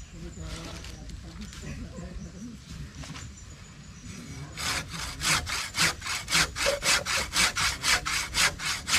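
A hand saw rasps through a wooden post in rapid, regular back-and-forth strokes, close and loud, after a stretch of quieter talking.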